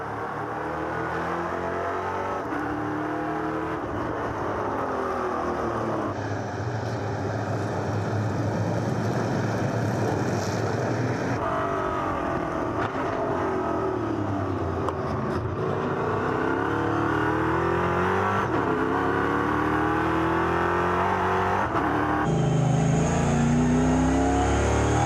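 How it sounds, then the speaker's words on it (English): NASCAR-style race cars at Adria Raceway roar around the track, engines revving and shifting as several cars pass in succession, a continuous loud layered drone rising and falling over about twenty-five seconds with no talk. "Let's leave the restart with the sounds of NASCAR."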